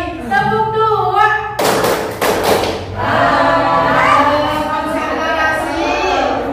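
A group of people, likely a class, claps twice in unison on command, two sharp loud claps close together, between stretches of voices chanting and talking.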